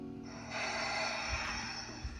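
A Darth Vader cosplay helmet's built-in sound device plays a steady mechanical breathing loop, a continuous hissing rasp that swells and fades in slow cycles, fairly close and alone.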